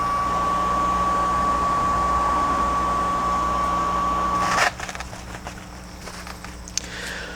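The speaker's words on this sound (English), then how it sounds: "you can see the pump was already primed, so it just started pumping with no problem" A water pump in an all-grain home brewing setup hums with a steady whine for several seconds. It then stops, and soft clatter and handling noises follow.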